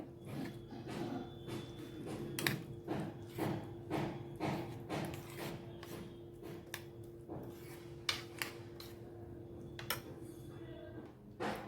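A spoon stirs chopped capsicum into yogurt in a bowl for koshimbir, making a quick series of light clinks and taps against the bowl in an irregular rhythm. Faint tonal sounds hum steadily underneath.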